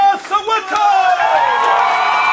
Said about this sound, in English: Keep that applause going for our next poet